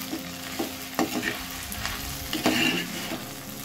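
Okra (lady's finger) stirred and fried in a pan, with a steady sizzle and intermittent scraping knocks of the spatula up close, and no talking.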